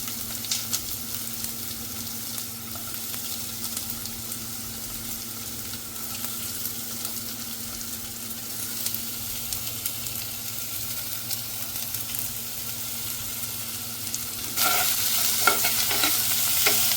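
Finely chopped onion fries in oil with garlic for a potato thoran, a continuous sizzle with stirring scrapes that grows noticeably louder and busier near the end.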